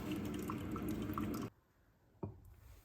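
A coffee maker drips and gurgles steadily as it finishes brewing, then cuts off abruptly into near silence, followed by a single brief clunk.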